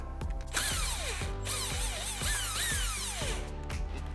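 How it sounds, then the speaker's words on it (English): Impact wrench removing 17 mm bolts from a 2016-2022 Toyota TRD front skid plate, heard close and loud as rapid hammering pulses under a motor whine that rises and falls. "We have our impact, and we're gonna go ahead and remove those now."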